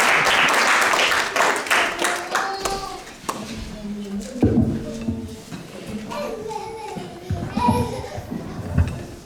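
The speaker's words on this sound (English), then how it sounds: "Let's give her a good round of" Audience applause after a class at an ISKCON program in Burlington, Canada, loud clapping at the start that thins out as voices, some of them children's, chatter over it.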